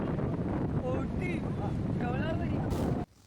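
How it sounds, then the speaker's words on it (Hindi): Strong wind gusts across a bridge over the sea, a steady loud roar buffeting the microphone with voices talking faintly underneath, cutting off abruptly near the end. "यहाँ इतनी तेज हवा चल रही थी कि हमें डर लग रहा था कि कहीं उड़ ना जाए"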